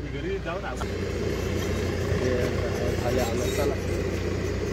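Interior of a Maruti Baleno driving on the road toward Dapoli, a steady low engine and road drone throughout, with people talking inside the car over it.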